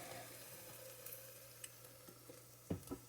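Garlic frying in a pan while cube steak and gravy are prepared gives a faint, steady sizzle, with a few soft clinks and stirring taps near the end.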